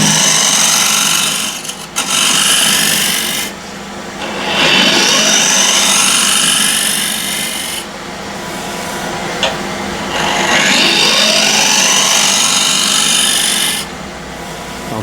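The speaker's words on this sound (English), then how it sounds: "I'll use a refiner to slightly dish this in, and I should be able to bring the speed up now" A refiner tool cuts into a spinning ash-wood cross-grain box blank on a lathe running near 1500 RPM, producing a loud, close, rasping scrape that rises and falls in long sweeping passes with brief pauses between cuts.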